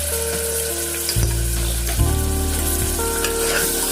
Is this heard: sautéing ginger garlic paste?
yes